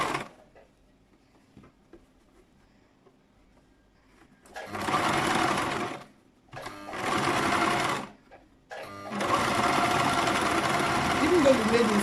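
A sewing machine stitches a braided turban hat in three loud, steady runs of rapid whirring, separated by short pauses after a quiet start.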